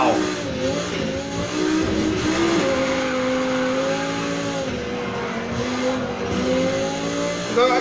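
An Audi R8 V10 Performance '19 drifting in Need for Speed Heat, its engine note rising and falling in sustained revving while tires squeal through the slide, loud and continuous throughout.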